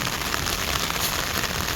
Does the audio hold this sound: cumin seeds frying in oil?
no